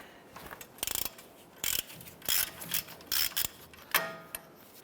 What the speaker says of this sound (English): Let's go ahead and loosen this nut. 21mm socket